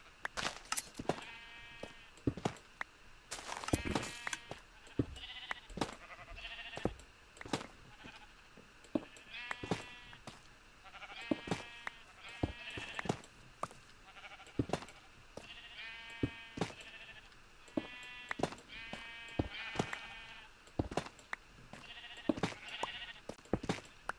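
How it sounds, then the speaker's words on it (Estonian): Sheep bleat repeatedly on a sheep farm in a video game, a chorus of close, wavering calls in overlapping bursts over sparse clicking, with no talking throughout. "siin, kus juba taga on klaas lamba ees, siis see on lambafarm"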